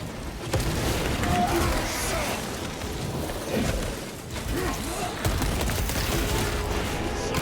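Turrets in Space Marine 2 hammer out continuous rapid gunfire amid a chaotic battle din, steady and fairly loud throughout with mechanical clatter mixed in.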